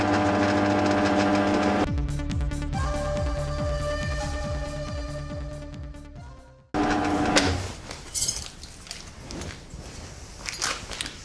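A power drill bores holes into a steel propane bottle, a steady motor whine with rhythmic pulsing that cuts off, followed by a rougher burst of grinding noise.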